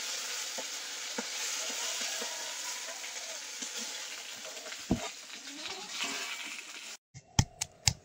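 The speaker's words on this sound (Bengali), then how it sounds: "মাছের মাথা ভাজা হয়ে গেছে," Fish head frying in hot oil, with a steady dense sizzle for several seconds, a few knocks and stirring clatters, then a brief gap and sharp utensil knocks near the end.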